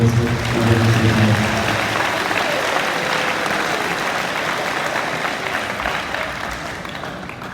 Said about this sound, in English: Again, another round of applause for our Eagles Choice for this evening.